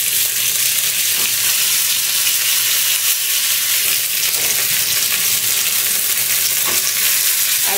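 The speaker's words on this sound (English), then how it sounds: "Now quickly add curry leaves." Curry leaves hit hot oil while a seasoning is tempered for coconut chutney, giving a loud, steady, hissing sizzle that holds throughout without pause.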